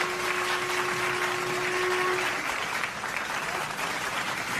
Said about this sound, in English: Hope you all will clap for the dance course Shati Hazra Bhattacharya